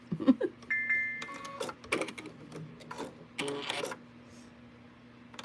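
Sewing machine stitching a quilt, short bursts of mechanical whirring and clicking separated by pauses, fairly quiet and close with a faint steady hum underneath.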